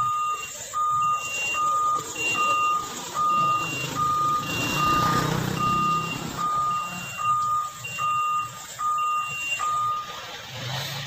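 A heavy truck from a convoy hauling bore-pile heavy equipment backs up while its reversing alarm sounds a steady run of evenly spaced electronic beeps over low engine rumble, loud and close, with no speech.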